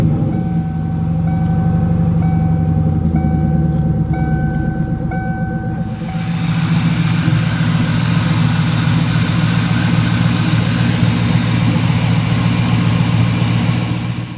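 A 1998 Cobra's engine after an oil change, with rhythmic warning beeps and a low hum before it turns over about halfway through, then settling into a loud, steady rumbling idle close by.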